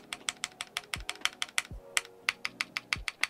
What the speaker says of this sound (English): Certain keys sound pretty good, like the shift sounds pretty good.